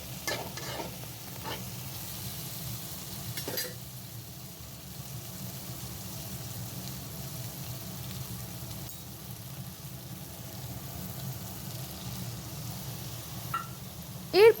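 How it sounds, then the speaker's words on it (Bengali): Spring onions, potatoes and eggplant with salt and turmeric fry in a pan, a soft continuous sizzle with a low rumble underneath and a few sharp utensil clinks near the start and end. "ওইদিকে আমি নুন আর হলুদ দিয়ে পেঁয়াজকলি, আলু, বেগুনটা ভালো করে ভেজে নিচ্ছি।"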